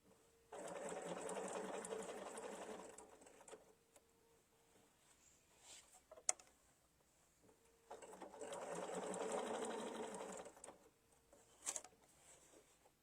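Sewing machine fitted with an open toe foot stitching a quilt, running in two steady bursts of rapid mechanical whirring separated by a pause, with a few sharp clicks between runs.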